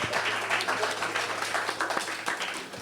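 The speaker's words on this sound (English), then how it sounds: "Can we have a round of applause for that?" An audience claps at a cultural conference, giving a short burst of dense, steady applause from a crowd in a hall.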